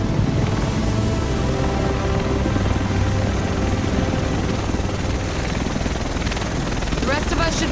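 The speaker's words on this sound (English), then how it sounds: "The rest of us should be in this chopper." A helicopter arrives in The Division's wintry Manhattan, a steady loud rotor drone filling the whole stretch under ongoing game noise and voices.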